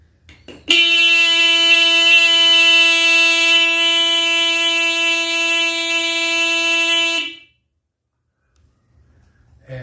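A faulty horn on a Yamaha Super Ténéré 750 motorcycle blares in one long, loud, steady tone for about six and a half seconds close up, then stops abruptly into near silence.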